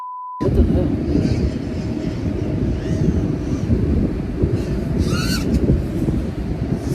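Strong wind roars steadily across an open microphone outdoors, a loud, unbroken rumble that buffets throughout.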